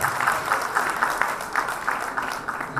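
An audience at an evening gala claps in a steady, moderately loud round of applause, the hand claps dense and continuous throughout.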